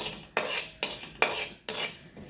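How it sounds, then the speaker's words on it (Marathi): Melon seeds dry-roasted in a pan with no oil, stirred with a metal spoon in four regular scraping sweeps, each starting with a sharp scrape against the pan, close and clear with no talk. "मगज बी हे पण आपल्याला बिना तेलाचं भाजून घ्यायचं आहे"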